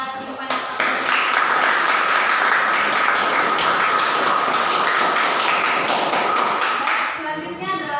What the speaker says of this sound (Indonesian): berikan tepuk tangan yang meriah kepada tim panitia